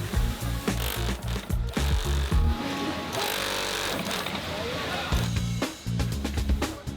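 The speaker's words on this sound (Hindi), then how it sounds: "वेस्ट बैंड को अब जीन्स के साथ सिल देते हैं।" An industrial sewing machine in a jeans factory stitches a waistband onto denim jeans, running in fast rhythmic bursts of needle thumping with pauses and steady workshop machinery noise in the background.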